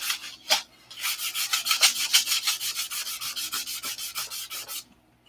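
Hand sanding of aircraft airfoil flaps, a close, steady rhythm of rasping back-and-forth strokes that runs for several seconds before stopping.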